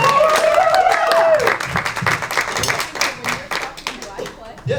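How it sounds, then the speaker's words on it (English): At a high school poetry slam, an audience claps and cheers in a crowd. A whistle or instrumental tone sounds early on, and scattered voices run beneath the uneven, fairly close applause. "Another round of applause."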